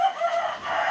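A big rooster on a large village farm crowing in one brief, sustained, fairly loud call, close by, with no voices.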